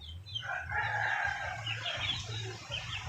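A fighting rooster crows close by in one long, loud call, with low background noise underneath.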